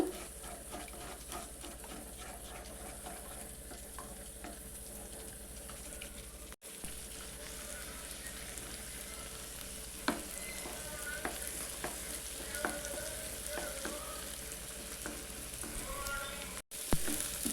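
Eggs being fried and stirred into a bread masala in a home pan: a steady oily sizzle runs throughout, with occasional clinks and scrapes of a utensil as the mixture is stirred, at moderate closeness and with no talk.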